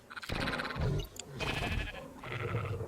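A sheep in the video game Ark bleats three times in quick succession, close and fairly loud, each call wavering and nasal with short gaps between.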